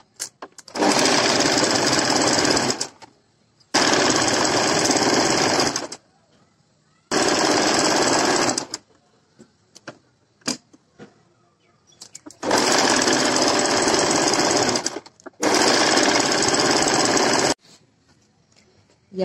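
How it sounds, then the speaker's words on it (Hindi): A sewing machine stitches a kurti sleeve onto the body in loud bursts of rapid mechanical clatter, several runs of a few seconds each separated by short pauses. "अब हम इस निशान पर से सिलाई लगाते हैं और अपनी बाजू को फिर कुर्ती के साथ में अटैच करते हैं"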